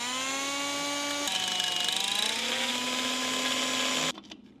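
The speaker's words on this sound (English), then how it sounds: "I'm gonna drill for a while." A power drill bores into a Honda CR250R motorcycle swingarm, whining steadily and loudly with a pitch dip partway through, then cutting off abruptly near the end as the motor winds down.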